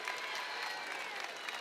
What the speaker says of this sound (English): clapping ovation